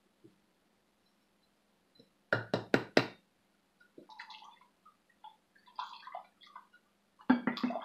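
Spoon scraping and knocking cooked pinto beans out of a pot: three loud close clacks, then a stretch of softer wet scraping and clinks, with another sharp knock at the end.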